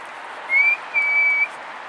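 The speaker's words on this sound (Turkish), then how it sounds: "biraz ıslık çal" Two short, high whistles, a quick one followed by a longer steady one, over faint background noise.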